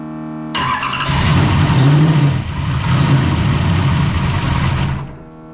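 A drift car's engine is revved continuously to keep it running, a loud, close, steady roar with rising and wavering throttle that cuts off sharply at the end.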